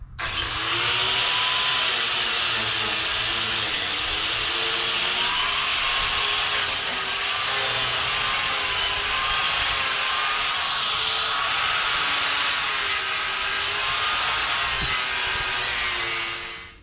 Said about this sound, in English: I ground a bevel into these pipes